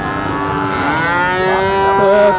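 A cow moos loudly and close by at a livestock market in Sirajganj, one long drawn-out call with a rising and falling pitch over a low background murmur.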